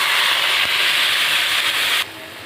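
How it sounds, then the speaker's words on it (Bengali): Water poured into a hot pan of frying brinjal and small fish sends up a loud, steady sizzling hiss that holds for about two seconds, then drops sharply to a quieter simmer. "জল দিয়ে দেবো।"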